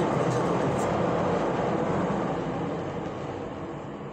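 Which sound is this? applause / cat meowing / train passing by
train passing by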